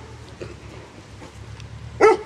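A single sharp, high yap from a small Doberman puppy near the end, after quiet background murmur.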